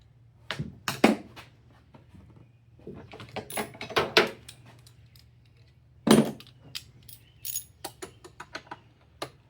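A ratchet works a bolt on a 2003–2008 Toyota Corolla during a throttle position sensor replacement, giving faint, close, irregular clicks and metallic ticks with quiet pauses between bursts.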